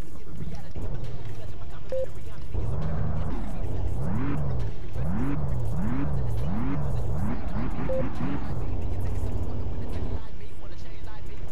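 A BMW in the driving game Drive Island is started and revved, its engine rising and falling in a run of repeated surges, loud and close, amid other in-game noise.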